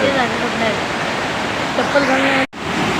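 Village waterfall swollen with water, a steady broadband roar of falling water close by, continuous apart from a brief dropout, with someone talking over it.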